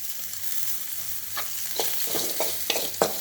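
Bitter gourd fries in a pan with a soft steady sizzle while a spatula stirs it, scraping and tapping the pan several times toward the end.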